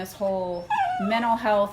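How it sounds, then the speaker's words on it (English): A dog whimpers and cries for attention in drawn-out, high, wavering whines that run under and between a person talking nearby. "excuse the dog crying"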